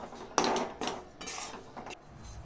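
Flour roasting in ghee in a pan, stirred with a spoon that scrapes and knocks against the metal in several short, sharp strokes, close by.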